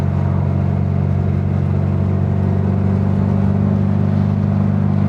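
A Volkswagen Beetle's torquey engine revs steadily and loudly from close by for the whole stretch, a constant low drone with no voices.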